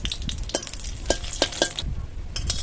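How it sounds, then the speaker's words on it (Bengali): Three dry red chillies frying in hot mustard oil in a kadai, a steady low sizzle under scattered sharp scraping and stirring clicks of a spatula, close and fairly quiet. "গরম কড়ায় সরষের তেল দিয়ে 3টে শুকনো লঙ্কা লাল করে ভেজে নেবো।"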